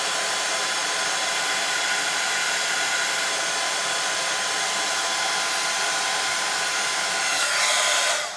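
A heat tool blowing a steady, loud, close whoosh over a stamped card embellishment on a mixed media card, continuous and unbroken throughout with no talking.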